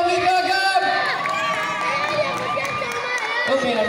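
Children cheer and clap loudly and continuously at a summer-camp concert by a singer, a dense, bright crowd roar with music underneath.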